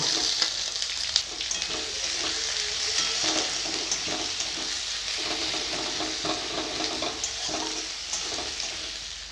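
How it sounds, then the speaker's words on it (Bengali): Bay leaves, garlic paste, green chilli and chopped onion fry in hot oil with a dense, crackling sizzle, broken by occasional spatula clicks and stirring scrapes, steady and close with no talking. "তেল গরম হয়ে গেছে দুটো তেজপাতা দিয়ে দিব রসুন বাটা দিয়ে দিব কাঁচা লঙ্কা দিয়ে দিব কুচানো পেঁয়াজ দিয়ে দিব"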